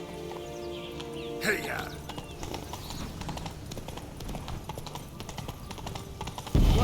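Roach, a horse in a video game, clops along with a steady rhythmic hoof beat under a voice, with a brief whinny-like burst early on.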